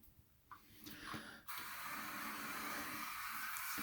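A couple of short sprays, then a steady, close aerosol hiss of Kaboom Foam Tastic foam cleaner that continues to the end.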